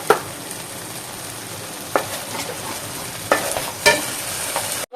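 Malai paneer being stirred in a pan with salt, a constant sizzle broken by several distinct scraping strokes of the spoon, near and moderately loud, no talking.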